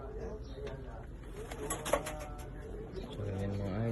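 Racing pigeon from a backyard loft of pet chickens and pigeons, cooing in low soft repeated calls, fairly close, with steady background noise and a louder coo toward the end.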